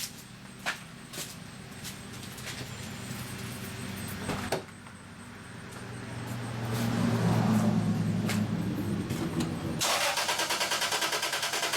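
A six-cylinder Toyota engine with new spark plugs and a freshly cleaned mass airflow sensor and throttle body cranks briefly, then catches and starts, rising to a steady running idle with some clatter.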